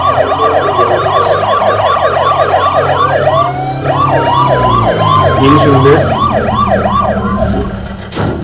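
Police car siren from the H1Z1 video game, wailing loud and steady as it cycles up and down, with a motor hum underneath and a brief voice near the start.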